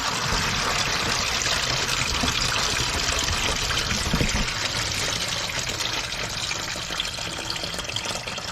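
Engine coolant gushing from the drain of an Isuzu NPR truck, a loud continuous rushing, splashing stream that holds steady throughout with no talk over it.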